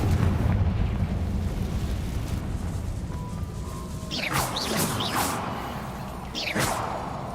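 A Confringo spell blast in a fantasy video game: a rumbling roar rises under several quick swooshing magical whooshes that burst out one after another over a constant low drone.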